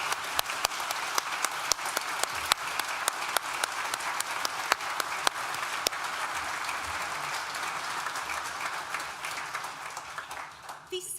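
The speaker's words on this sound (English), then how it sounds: "Please join me in thanking them with a really well-deserved round of applause." Sustained applause from an audience at a university graduation ceremony for the School of Social Sciences, steady dense clapping with a few sharper claps standing out, continuing for about eleven seconds before starting to thin.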